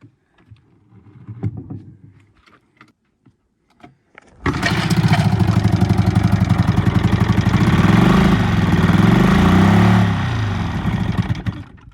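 An old Evinrude 20hp outboard motor running rough on one cylinder, loud and close, a pulsing throaty drone that kicks in suddenly after a few quiet clicks and bumps.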